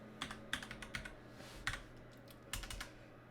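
A computer keyboard clacks out a short file name in a quick run of distinct, close key presses with small gaps, no voices present.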